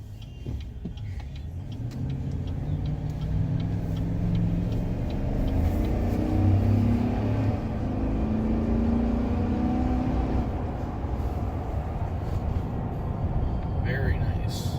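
A 2019 Chevrolet Silverado with an 8-speed transmission drops a gear and pulls, its engine giving a steady rumbling drone that rises in pitch over several seconds beneath constant road and cabin noise.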